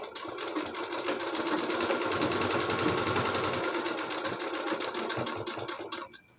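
A sewing machine runs steadily for about six seconds, joining the shoulder seam of a lined suit with a half-inch seam allowance, loud and close, then stops abruptly near the end.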